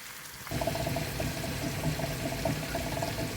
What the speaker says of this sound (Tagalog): Tapos ilagyan na natin ng tubig.